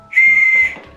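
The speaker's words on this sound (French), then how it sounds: "Oh c'est un sifflet." A small dog whistle from a pet advent calendar gives one steady, piercing high tone lasting about half a second, then cuts off into faint rustling.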